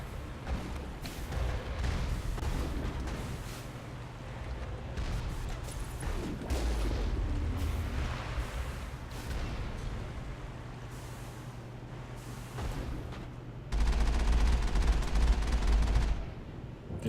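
Repeated cannon fire from a vehicle-mounted gun in the Mass Effect video game, Virmire mission, with loud booming shots and low rumble over steady battle noise, one heavier blast near the end.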